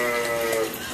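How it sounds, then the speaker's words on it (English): A goat bleats near a goat farm, one loud, close, wavering call filling the brief moment outdoors. "That's next to a goat farm."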